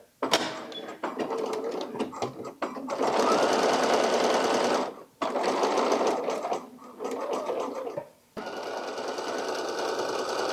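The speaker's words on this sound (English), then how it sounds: "So let's just sew these together real quick." Sewing machine stitching fabric pieces together for the bow of a 1920s-style cloche hat, steady rapid mechanical chatter in several bursts with brief stops between runs.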